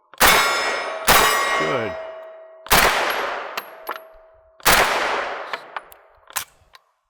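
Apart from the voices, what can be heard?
rifle shots from a short-barreled rifle at steel targets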